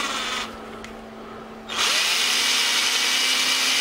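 Close power drill whirring into the plastic hull of an RC jet boat, briefly easing off mid-clip before spinning back up loud and steady to the end.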